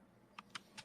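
Typing on a computer keyboard during an online voice chat, heard as a few distinct clicky keystroke bursts, fairly close, over a quiet background hum.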